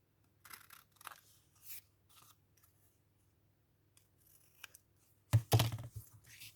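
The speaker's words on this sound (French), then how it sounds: "à l'arrache, je coupe 1 millimètre tout autour" Scissors cutting a narrow strip all around an envelope, scattered crisp snips and paper crunches, with a louder, denser run of cuts near the end.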